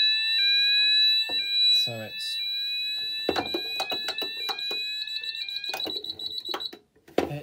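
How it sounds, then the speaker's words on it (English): A rebranded Menvier MF400 fire alarm panel gives a sequence of sharp electronic beeps and tones at close range, with a brief spoken phrase over it. "it does that irritating beep that it does on like the JSP FireDex panels"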